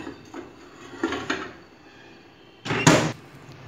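Microwave oven door handled while a dish of kuska goes in to cook, with soft bumps and clicks followed by a louder thud and clunk of the door shutting near the end.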